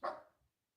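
A single sharp dog bark, close and fairly soft, cutting off quickly with a short tail of room echo during a 1972 Braves at Pirates baseball game broadcast.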